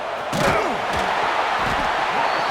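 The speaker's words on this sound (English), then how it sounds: "It's early, but this crowd is fired up. Listen to this noise here." Loud, dense roar of a football stadium crowd cheering at an early-season college game against Texas, a steady wall of noise throughout with a few shouts and thuds poking through.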